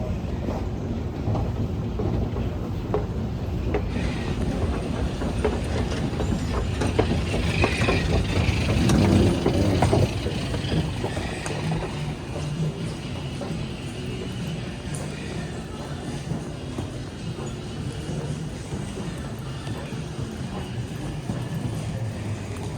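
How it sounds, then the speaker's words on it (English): Steady rumbling of a moving airport air train car, a continuous low hum and rattle with wind noise, heard from inside for the whole stretch. "I am headed up the air train now"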